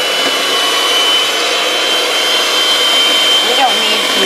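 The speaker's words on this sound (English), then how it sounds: "So I'm just going to use a hand mixer." Electric hand mixer beating cake batter, a steady loud motor whir with beaters churning continuously and evenly throughout, close by and without talk.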